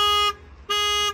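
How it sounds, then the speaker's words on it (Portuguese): A Volkswagen car's alarm at a dealership lot beeps twice, loud and close, as two sustained electronic tones separated by a short gap. "O alarme já apita, viu?"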